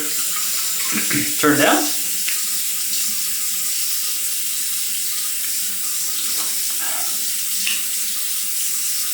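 A bathroom tap runs steadily into a sink while someone rinses their face after a wet shave with synthetic-brush lather, a constant close hiss of water with a few splashes and brief handling noises, and a short spoken phrase near the start.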